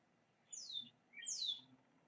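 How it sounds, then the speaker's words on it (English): A woodpecker gives two sharp, high, descending calls about a second apart, fairly close and clear against a quiet background. "I have not heard a woodpecker in forever."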